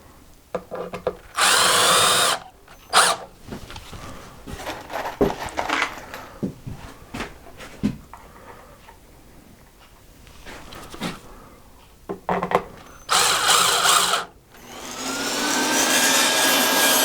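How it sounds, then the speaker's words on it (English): Power drill driving screws into a wooden 1x10 board for a DIY tool organizer, several loud bursts of whirring separated by quieter handling clatter and thumps, close up, no talk. "And now we're going ahead and placing the screws"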